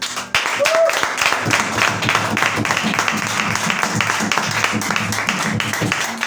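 A church congregation applauds steadily, dense clapping filling the room for several seconds, with a brief voice or tone near the start.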